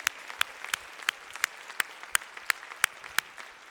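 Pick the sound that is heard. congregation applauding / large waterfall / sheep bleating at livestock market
congregation applauding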